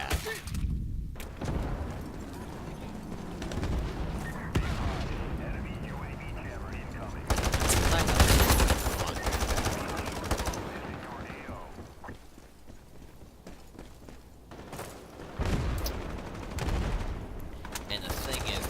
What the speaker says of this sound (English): I can shoot them down with bullets